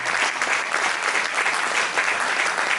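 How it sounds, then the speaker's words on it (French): Church congregation applauding and cheering during a worship service, continuous dense clapping with a crowd roar that holds steady throughout. "Acclame Jésus."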